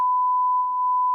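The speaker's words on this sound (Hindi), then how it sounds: "बीप साउंड मतलब समझ लीजिएगा अभद्र गाली।" A steady high censor beep tone masking abusive language in a televised Hindi news debate, holding for about a second and briefly dipping near the end.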